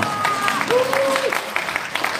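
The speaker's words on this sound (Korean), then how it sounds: "힘찬 박수로 환영해 주시기 바랍니다" Audience applause welcoming a guest at a political event in the National Assembly members' hall auditorium in Seoul, a steady wash of clapping under overlapping voices and speech throughout the short stretch.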